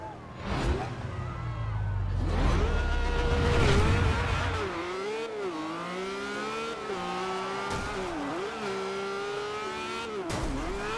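Supercar engines such as Bugattis, Koenigseggs and Lamborghinis rev and accelerate in the Forza Horizon 2 racing game, with loud, sustained engine tones that rise and fall through gear changes. Tires squeal and a voice talks over the engines.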